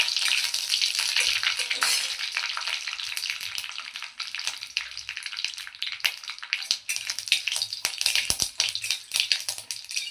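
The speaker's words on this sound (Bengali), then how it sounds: "সর্ষে দিয়ে তেজপাতাটা একটু ভালো করে ভাজতে হবে। এটা এই চাচা চাচা করছে।" Mustard seeds and a bay leaf fry in a little mustard oil with a steady, crackling sizzle and sharp popping seeds, close and continuous with no talk.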